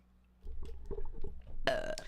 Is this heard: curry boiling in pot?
no